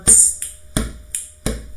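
Sharp finger snaps at close range, six or so crisp clicks in a steady alternating rhythm, each followed by a soft thump that sounds like a hand striking the chest, with no talking.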